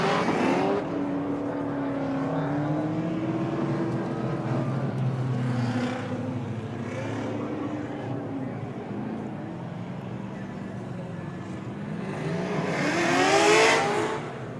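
Drift cars running at the LS Fest West drift challenge, engines revving and wailing at a distance under continuous announcer commentary, with a louder surge of engine noise near the end.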